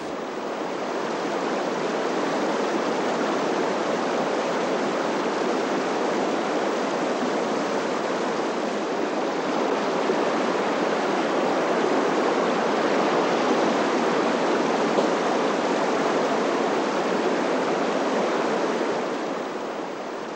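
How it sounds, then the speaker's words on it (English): Muddy brown river in flood after torrential rain, rushing in a constant loud roar of turbulent water that stays steady and unbroken for the whole stretch, with no voices. "Torrential rain is raising the level of the river fast"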